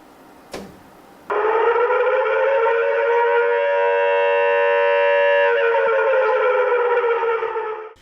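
After a short thump, a loud air raid warning siren starts abruptly and holds a steady wailing tone for several seconds before fading slightly.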